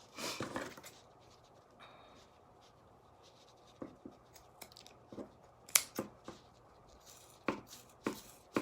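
Scissors snipping the ends of a wood bead garland, a series of short, sharp cuts at close range over a quiet background, with no voices.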